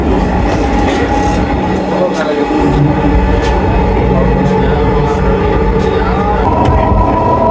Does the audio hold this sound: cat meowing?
no